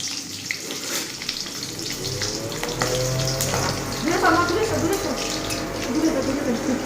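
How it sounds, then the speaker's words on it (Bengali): Nigella seeds and green chillies sizzling in hot oil in a wok for mustard hilsa, a steady close crackling hiss that grows busier, with someone talking over it. "কালো জিরা ফোড়ন দিচ্ছি, আজকে একটু সর্ষে ইলিশ করবো।"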